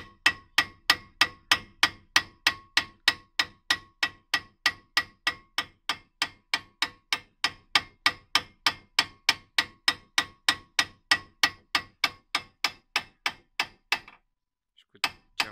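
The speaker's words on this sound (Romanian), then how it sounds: "trebuie un ciocan ceva să bateți în el" Rapid, steady metallic hammer blows strike a rusted brake disc on a 2010 VW Crafter over and over in a fast even rhythm, loud and close, stopping near the end.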